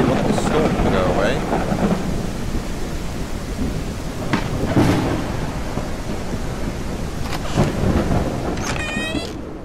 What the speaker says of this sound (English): I really want this storm to go away.